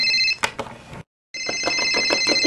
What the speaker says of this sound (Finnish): Puhelin soi.